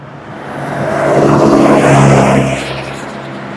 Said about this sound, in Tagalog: dami sasakyan, ha?